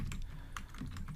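Quick, soft clicks of keys being typed on a computer keyboard, a brief run of several close taps at an uneven rhythm with no talking.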